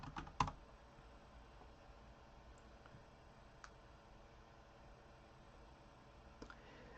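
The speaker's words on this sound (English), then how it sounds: "So we're just going to type in home decor." Quiet, sparse keystrokes on a computer keyboard as a search is typed, a few faint clicks scattered over a low background hiss.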